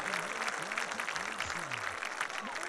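Stadium crowd at a Delaware Blue Hens college football game against New Hampshire applauds student scholars in a steady, broad wash of clapping, with an announcer's amplified voice running over it throughout.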